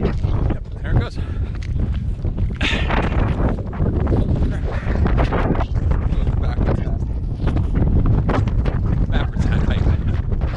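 Strong gusty wind buffets the microphone during an ultramarathon near Page, Arizona, a loud low rumbling roar that swells and drops, with a voice speaking underneath.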